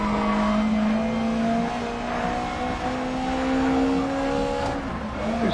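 Race car engines in the Grid Legends racing game drone loudly and steadily as one car spins and skids, tire squeal rising over the continuous revving, with no talking.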